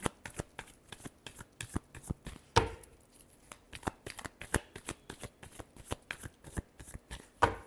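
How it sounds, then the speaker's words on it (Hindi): Tarot cards shuffled by hand at close range: a rapid, steady run of crisp papery riffles and slaps with a brief burst of flutter partway through, and no talking. "Last shuffle."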